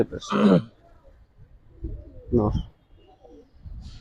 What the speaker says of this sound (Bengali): নটটা লম্বা একটা কবুতর হ্যাঁ মাদিটা লম্বা